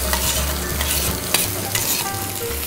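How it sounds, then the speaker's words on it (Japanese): Onion and apple stir-fry in sesame oil over medium heat, a steady close sizzle with the scrape and clatter of stirring throughout, no voices. "ごま油で今日はやります。 炒めます。 玉ねぎとリンゴ、"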